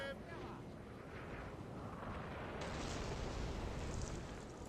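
Cannon artillery fire rumbles through a Napoleon: Total War battle, a dense continuous roar of booms layered with distant blasts, with someone talking over it.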